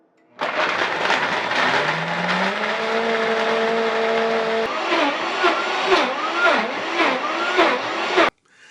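A Vitamix Ascent X5 blender runs loud and steady, its motor pitch rising then settling into a constant whine before fluctuating with churning, pulsing contents; no one talks.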